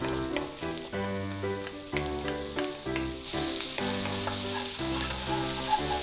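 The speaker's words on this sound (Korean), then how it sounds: "버터, 마늘, 파채 넣고 볶아줍니다." Butter, garlic and shredded green onion fry in a pan with a steady, close sizzle, broken by rhythmic stirring scrapes and clinks throughout.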